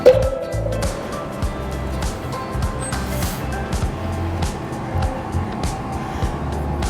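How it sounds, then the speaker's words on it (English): Steady road traffic rumbles nearby in Singapore, with cars passing and engines droning continuously at moderate volume, and no talking. "That's the noise of the traffic and things."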